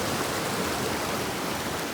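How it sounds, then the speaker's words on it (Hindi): A small waterfall near Manikaran in the Kullu valley hisses as a continuous, even rush of splashing water, close and moderately loud, with no talking. "पास में ही एक झरना मिल गया"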